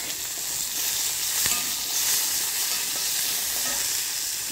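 Chopped onion and tomato sauté in a hot pan for idiyappam kothu, a steady close sizzle and hiss holding evenly throughout with no talking.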